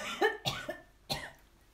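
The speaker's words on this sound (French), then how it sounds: "quand je tousse, c'est pas parce que je suis malade du Covid" A person coughs indoors in a quiet room, three short dry coughs spaced apart and fairly soft, with no talking.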